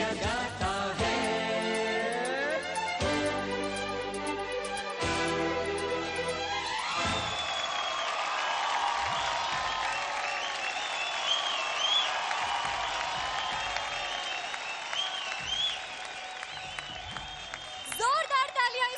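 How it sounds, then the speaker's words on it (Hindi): Music plays first, then a studio audience at a televised dance competition breaks into loud, sustained applause and cheering for a dance performance. The applause continues for over ten seconds before music briefly returns. "जोरदार तालियां इस खूबसूरत परफॉर्मेंस के लिए।"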